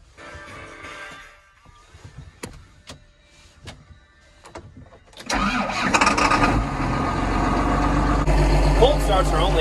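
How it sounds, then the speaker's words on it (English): A John Deere 7520 tractor starts from cold after a few seconds of clicks and cranking, then its engine catches and settles into a loud, heavy, steady idle close by. "Who's ready for a cold start?"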